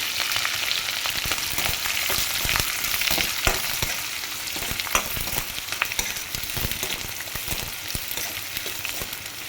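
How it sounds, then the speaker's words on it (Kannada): Chopped onion hits hot oil already holding cumin, curry leaves and green chillies, giving a steady, bright sizzle with occasional crackles and stirring scrapes throughout. "ಆಮೇಲೆ ಒಂದು ಈರುಳ್ಳಿನ ಕಟ್ ಮಾಡಿ ಹಾಕ್ತಾಯಿದ್ದೀನಿ"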